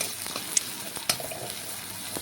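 Onion and slit green chillies frying in oil in a kadai for dal, a steady close sizzle with a few sharp crackles and pops.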